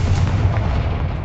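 A Confringo fire spell blast in the Hogwarts Legacy video game lands as a short, heavy booming burst with a deep rumble that fades quickly. No speech is heard.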